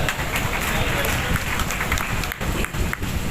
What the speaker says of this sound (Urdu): کبھی اگر نہیں دیا تو پھر تالیاں بجائیں